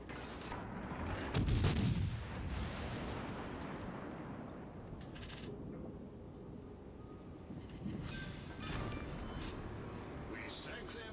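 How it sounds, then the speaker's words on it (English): Naval guns fire in the World of Warships Legends video game, a heavy booming salvo followed by rumbling blasts and a second burst, mixed with game voice callouts and speech. "Stations concentrate fire on that target."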